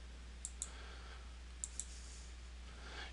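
A computer mouse double-clicked during work in FactoryStudio software, two quick pairs of faint, sharp clicks about a second apart over quiet room hum.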